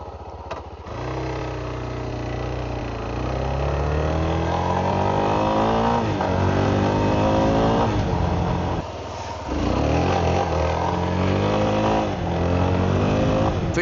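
Suzuki DRZ4S motorcycle fitted with a Tusk aluminum skid plate, engine droning loud and close while riding, pitch climbing and falling through gear changes with a brief dip midway.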